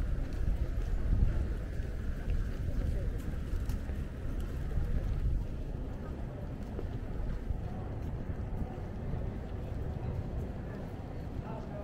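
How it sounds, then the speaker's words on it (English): Wind buffets the microphone on a Seoul street in Hongdae, a continuous low rumbling roar that is loudest early and stays fairly faint overall. "It's windy."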